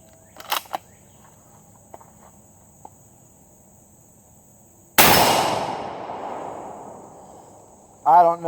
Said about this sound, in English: I don't know if y'all can hear that, but man, it is thumping that target.